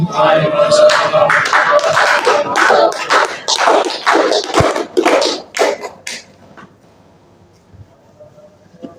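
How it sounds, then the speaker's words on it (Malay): Audience applause after a Malay-language speech practice session, loud dense clapping lasting about six seconds before thinning out and fading into near quiet. "Tepuk tangan untuk kalian semua."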